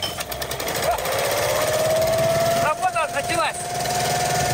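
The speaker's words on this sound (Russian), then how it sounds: "Сейчас мы придумали генератор. А как он заводится?" A generator engine runs loudly and steadily at a fishing site on Lake Zaysan, a droning mechanical roar with a rising whine, while people talk over it.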